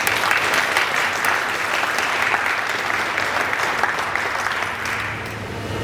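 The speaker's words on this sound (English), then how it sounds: "So huge round of applause." Sustained, loud audience applause at a student government State of the Student address, a steady wash of clapping that eases slightly toward the end.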